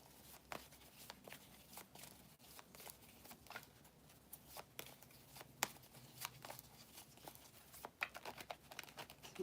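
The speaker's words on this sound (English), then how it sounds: "Sometimes I shuffle these a little bit" Crisp, irregular tarot card shuffling with papery flicks and rustles, close and soft, continuing steadily without speech.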